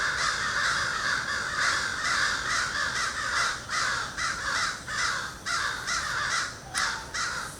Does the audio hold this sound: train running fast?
no